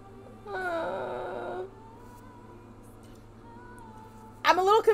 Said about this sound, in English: And you have a puppy.